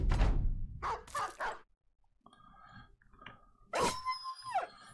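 A dog barks and yelps in the fantasy strategy game Battle Brothers, with a few sharp close barks at first, then quieter game sounds and a whining, howling cry near the end.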